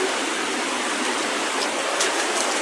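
Steady, dense roar of floodwater rushing through a Kibra slum where a river has overflowed and broken up toilets, loud and continuous with no pauses.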